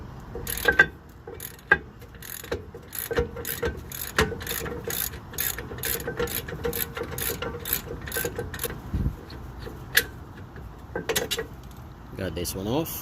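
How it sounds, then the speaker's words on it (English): An 18 mm ratchet loosens the rear brake caliper bolts on a 2011 Camaro SS, giving a steady run of close, crisp clicking pawl ticks with occasional louder clacks. "I go back to my 18 mil on my ratchet, and I'm just going to back this off"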